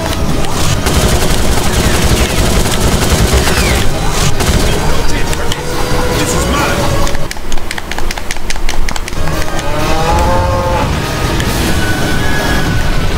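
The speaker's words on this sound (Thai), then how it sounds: "โดนไปปืนกลนะฮะ" Rapid machine gun fire strikes a kart in the racing game Crash Tag Team Racing, a dense, steady clatter layered over engine drone and game music throughout.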